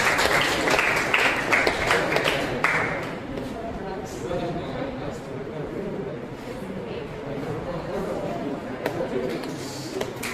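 Audience applause at a Toastmasters club meeting honoring a first-time speaker, a dense steady patter of clapping throughout the room, louder at the start then settling, with some voices mixed in.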